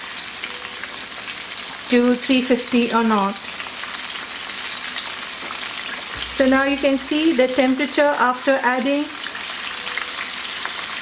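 Chicken pieces frying in hot oil around 350 to 375 degrees give a continuous close crackling sizzle, heard under someone talking in two stretches.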